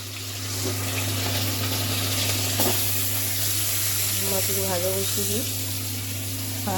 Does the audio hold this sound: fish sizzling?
yes